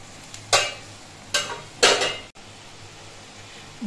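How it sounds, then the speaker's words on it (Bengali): A spoon scrapes and clinks against a pot while salt is stirred into a kalojeere pabda fish curry gravy, three separate short bursts of stirring heard up close with no talking. "নুনটা দিয়ে ঝোলটা নেড়ে চেড়ে মিশিয়ে ঝোলটা কিছুক্ষণ ফুটিয়ে নিতে হবে"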